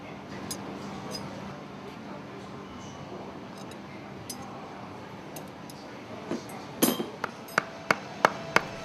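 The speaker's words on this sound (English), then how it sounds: "Use a hammer and a piece of wood to hammer the piston into place in the air cylinder." A hammer strikes a piece of wood to drive a piston into the air cylinder of a ship main engine exhaust valve during overhaul, about six sharp, evenly spaced knocks near the end over a steady engine-room hum.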